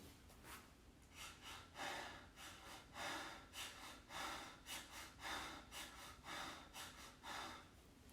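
Rhythmic breathwork breathing, a steady run of strong, close inhales and exhales roughly every half second with breathy gasping and snorting texture, continuous and unaccompanied by speech.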